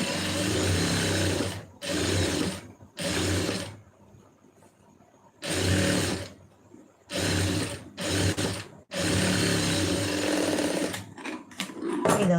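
A sewing machine stitches fabric in repeated bursts of steady whirring, each a second or two long, with short quiet gaps between them, close and clear with no talking over it.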